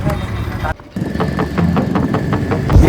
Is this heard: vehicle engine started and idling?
yes